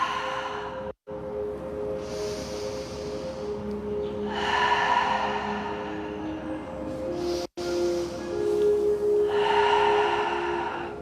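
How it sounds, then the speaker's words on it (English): Slow, steady breaths drawn in and let out during a Pilates session, three long airy swells about three seconds apart, close and fairly soft over a faint hum in a quiet room. "Take some deep breaths here."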